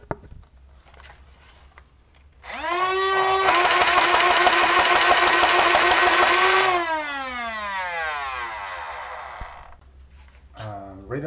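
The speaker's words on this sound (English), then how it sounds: "Rate of fire test of the same rapid strike with the upgrade motors and the 4S lipo" A Nerf Rapidstrike blaster with upgraded motors on a 4S lipo battery spins up with a rising whine, then fires a rapid, rattling burst of darts for about four seconds before winding down as the motors coast to a stop.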